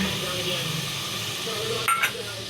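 Meat cooked with yogurt, water and spices sizzles in a pan on a gas flame, a steady close frying hiss with a brief stirring clatter near the end.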